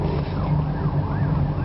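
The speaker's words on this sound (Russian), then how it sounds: "Ну, я слышу сирену" A wailing siren rises and falls at a distance, partly masked by road and engine rumble.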